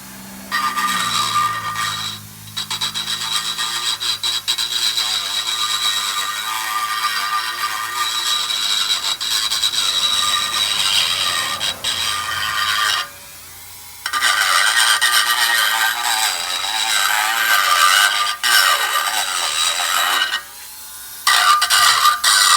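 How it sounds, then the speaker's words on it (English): Dremel micro rotary tool grinding rust off rear brake parts from a 2007 Jeep Commander, a continuous high scraping whine that cuts out briefly several times, the motor faltering and straining, with no voices. "My Dremel tool is starting to die."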